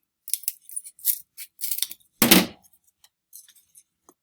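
Scissors snip through a paper cut-out nose shape in a run of short, close cuts, followed by one louder rustling crunch of the trimmed piece and a few faint clicks.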